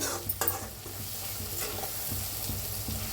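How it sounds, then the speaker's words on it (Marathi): Tempering (phodni) for dal dhokli sizzles steadily in a pan with bright crackling hiss, while a spoon scrapes and stirs through it in repeated close strokes. "आता फोडणी आपली मस्त बसलेली आहे"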